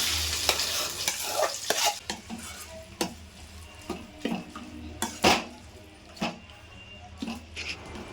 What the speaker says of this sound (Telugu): నూరిన పచ్చడిని కలుపుకోవాలి.